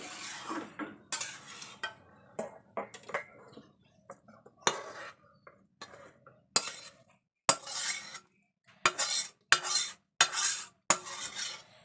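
A cooked prawn and garlic dish is scraped and poured out of a metal pan, with a run of clinking and scraping utensil strokes, irregular and close, growing busier toward the end, no speech.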